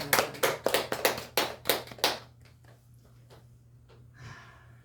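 A church congregation claps in a quick rhythmic burst of about two seconds, loud and close, then fades to faint room noise with scattered soft sounds and a low steady hum.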